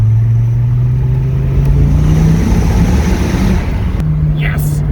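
A car with its factory exhaust drones steadily inside a tunnel. The engine holds a loud, sustained note, and the enclosed space makes the sound reverberate.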